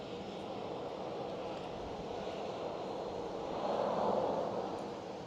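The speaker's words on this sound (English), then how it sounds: "A321XLR taxiing out" An Aer Lingus Airbus A321XLR taxis out at Amsterdam Schiphol, heard as a steady distant jet-engine rumble and whine that swells slightly for a moment before settling, with no talking.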